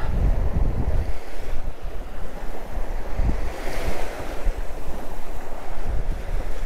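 Waves washing onto the sandy shore of Taganrog Bay at Yeysk, a continuous loud rushing surf mixed with heavy wind buffeting the microphone.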